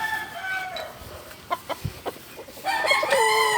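Backyard chickens give a few short clucks and calls near at hand, followed by a louder, sustained crowing-like call toward the end, with no talking.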